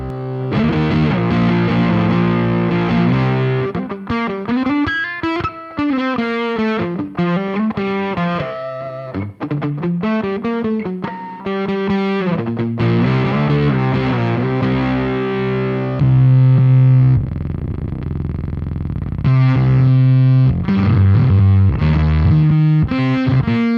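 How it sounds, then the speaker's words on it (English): An electric guitar through a synth fuzz distortion pedal, playing sustained, buzzing notes and bending lines with a thick, saturated, warbling tone. "turns a stock old school distortion into a crazy synth fuzz with some really out there wild textures and sounds"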